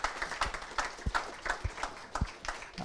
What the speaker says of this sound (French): On a envie de les applaudir quand même